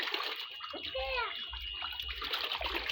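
A son and daughter bathing together in a tub, with soft splashing and running water at low level and a brief tonal squeak partway through.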